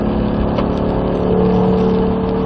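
A race car engine droning loud and close as it accelerates while shifting up to fourth gear on track, its steady tone rising slightly through the middle without a break.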